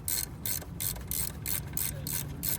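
Hand ratchet turning a bolt on a second-generation Toyota Tacoma, close and quiet, giving a regular series of about nine crisp clicking bursts in even rhythm.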